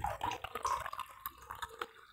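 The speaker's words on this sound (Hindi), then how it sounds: "ये रंगकाट का पानी है इसमें मैं मिला रहा हूँ" Colour-remover water poured and stirred into a dye solution in a cloth-whitening experiment, giving steady close trickling and dripping splashes with no talk over it.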